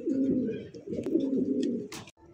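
Fancy pigeons for sale at a bird market give low, throaty cooing in two rolling bursts, close and moderately loud, with a sharp click near the end.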